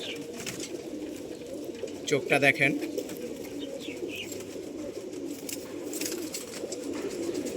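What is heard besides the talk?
khaki pigeon cooing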